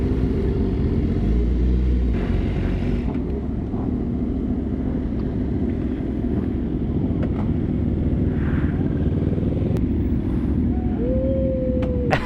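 A motorcycle engine roaring during a wheelie at a street meet, a loud steady drone filling the whole stretch, with a brief higher engine whine near the end and no talk.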